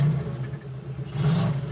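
Engine of the Mazdarati turbo project car revving under throttle at a drag strip, a steady mid-pitched drone that swells louder toward the end of the short burst.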